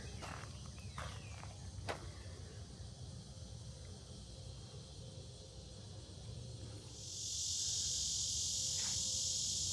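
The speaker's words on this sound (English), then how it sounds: "All the bugs." Insects and crickets chirp and hiss in Florida garden ruins, faint at first with a few footsteps, then swelling into a loud, steady high buzzing chorus.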